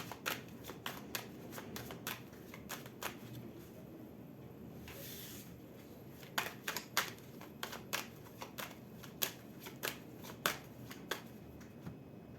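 Oracle cards shuffled by hand at close range, with quick repeated riffling bursts and sharp flicks spread unevenly over a quiet room, with no talk.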